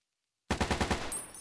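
An AK-74 rifle fires a fast burst of about six rounds in Fallout: New Vegas, sharp and loud after a moment of silence, with the shots trailing off into a short echo.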